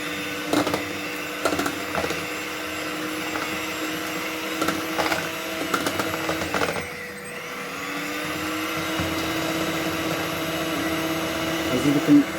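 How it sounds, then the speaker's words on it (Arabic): Electric mixer beating cupcake batter with oil and yogurt, first intermittent clicks and knocks, then a steady motor whir that holds for the second half, fairly close and loud. "نبغي نخلطهم غير بالزيت والزبادي"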